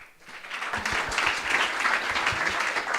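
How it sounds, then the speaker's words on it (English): A hackathon audience breaks into warm applause for a speaker from a partner bank, swelling quickly and holding as an even, full wash of clapping. "A round of applause."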